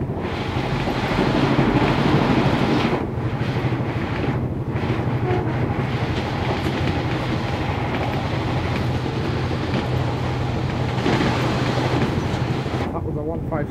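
Interior of a Northern Class 142 train running between Newcastle and Sunderland, with a steady rumbling roar, rhythmic wheel clatter and wind noise, loud and continuous throughout.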